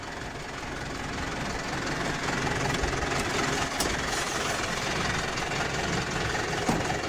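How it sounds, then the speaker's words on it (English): A massive tractor's engine runs steadily and close by while it works a field, a dense low rumble with broadband mechanical clatter that stays loud and even throughout with no talk. "let's jump back in the tractor and just get to work on this whole field."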